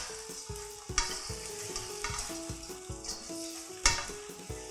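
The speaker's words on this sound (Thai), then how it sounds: "ใส่ตัวปลาดุกที่เราทอดเอาไว้ลงไปเลยค่ะแล้วก็คนให้ตัวพริกแกงค่ะเคลือบตัวปลาของเราให้หมดค่ะ" Fried catfish tossed with curry paste in a pan, a spatula scraping and stirring with repeated knocks against the pan over a steady, close sizzle, with no voices.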